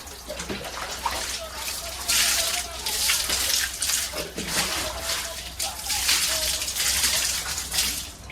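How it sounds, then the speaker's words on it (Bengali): Shoes being washed under running water, a steady splashing and trickling stream that swells and eases across the clip, close by, with faint voices in the background. "জুতোগুলো একটু ধুয়ে দিই"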